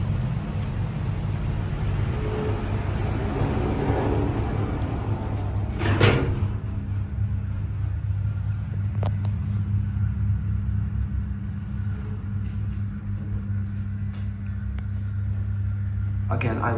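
An old Otis Lexan traction freight elevator in a Beijing store: a constant low mechanical rumble of the moving car, broken by a sharp door clunk midway and another near the end.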